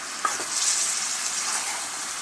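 Duck meat being stirred and fried in a pan for a home-cooked curry, a steady close frying hiss with a few scraping stirs near the start, no voices.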